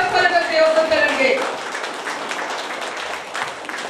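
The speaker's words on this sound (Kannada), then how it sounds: "ಎತ್ತವರು ಎದ್ದು ನಿಂತು ಚಪ್ಪಾಳೆ ತಟ್ಟಿ, ಇದ್ದವರು ಎದ್ದು ನಿಂತು ಚಪ್ಪಾಳೆ ತಟ್ಟಿ" Audience at a building inauguration meeting in Mangaluru rising to their feet and clapping, a dense burst of applause that fades gradually, with a voice speaking over it at the start.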